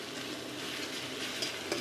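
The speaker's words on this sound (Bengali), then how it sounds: "পেঁয়াজটা একটু হালকা ভেজে নেব।" Onions fry lightly in hot mustard oil in a pan, giving a steady, soft, continuous sizzle with faint stirring scrapes and no voices.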